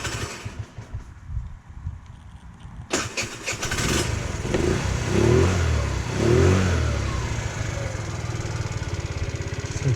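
A Chinese GY6 scooter engine fitted with 8-gram sliders cranks briefly, catches and settles into a steady, loud idle close by. The running note swells and eases slightly, with no talking.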